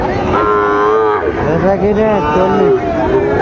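Loud, close moos from a Sahiwal bull at a cattle market, several drawn-out bellows one after another, with faint crowd noise behind.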